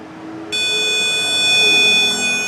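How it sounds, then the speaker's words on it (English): A loud, steady electronic buzzer tone from a Nissan Frontier starts abruptly after a moment of low hum and sounds continuously to the end. "Shut that annoying buzzer off."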